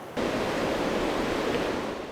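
Water rushes loudly and steadily at Targa Falls on the Brodhead Creek watershed, a close, continuous roar that begins abruptly and carries no speech.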